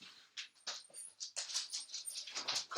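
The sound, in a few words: teacup Yorkie dog whimpering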